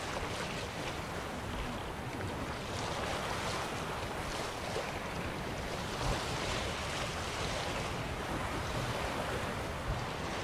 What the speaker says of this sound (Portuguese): esse barulho de água, de vento, de mar, é relaxante pra caramba